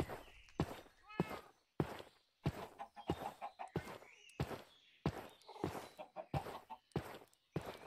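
Minecraft chickens clucking in short, repeated bursts mixed with blocky in-game footsteps, close and fairly quiet, with no talk over them.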